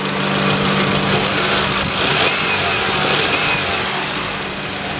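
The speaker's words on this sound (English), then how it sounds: "There's the AC compressor kicking on." A 1992 Honda Accord engine idles steadily close by with a loud, even mechanical hum as the AC compressor kicks on, adding a faint shift in tone partway through, and no one speaks.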